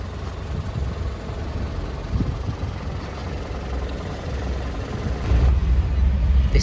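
A motor vehicle engine runs steadily during a test, a low, even idle rumble heard close, rising slightly in loudness near the end, with no talking.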